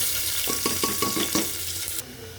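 Onion dropped into hot oil for tomato bath, giving a near sizzle with a few rhythmic stirring or tapping hits against the pan before it settles.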